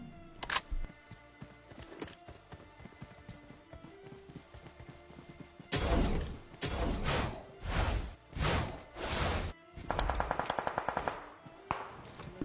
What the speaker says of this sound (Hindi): अभी राइट साइड से भी फायर हो रहा था